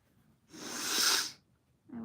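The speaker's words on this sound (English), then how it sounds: "I feel like I have to sneeze" A single breathy, hissing sneeze, close and fairly soft, followed by a short voiced sound afterward.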